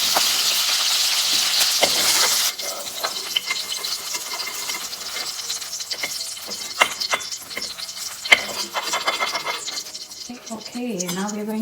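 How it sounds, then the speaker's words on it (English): Onions and potatoes sautéing on a high flame for a potato and capsicum curry, with a loud broadband sizzle at the start that settles into steady frying with stirring scrapes and clicks, and a voice briefly near the end. "Just saute it for a minute on high fire."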